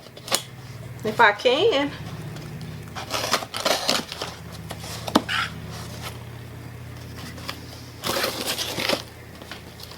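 Someone cuts around a cardboard shipping box to unbox a Tecre 3 inch button maker, producing intermittent close scratchy slicing and crunching bursts while someone talks briefly.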